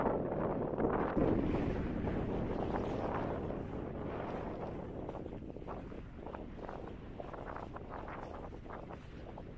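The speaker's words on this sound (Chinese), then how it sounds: "这风特别大。" Strong wind gusts across the open Gobi desert under cloudy skies, a steady rushing roar buffeting the microphone, loudest at first and easing slightly toward the end.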